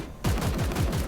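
Rapid gunfire in the strategy game Warhammer 40,000: Chaos Gate - Daemonhunters, a sudden loud burst of quick repeated shots that keeps going without a break, with no talking.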